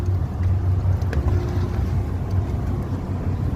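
A passenger ship bound for Cagayan de Oro at Cebu port gives off a steady, low mechanical hum and rumble, with faint background noise throughout.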